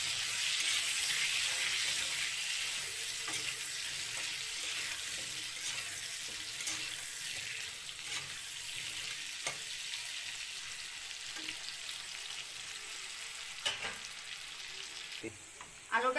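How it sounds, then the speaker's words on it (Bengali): Potatoes frying with turmeric and salt in a pan for a fish-head muri ghonto, giving a steady, loud sizzle throughout with occasional sharper crackles and stirring clinks toward the end. "ভালো করে ভাজতে হইব।"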